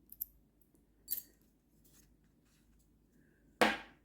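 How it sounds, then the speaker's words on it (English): A few sharp snips of scissors cutting crochet lining material, spaced apart in a quiet room, the last one louder and close. "Need to get myself some better scissors."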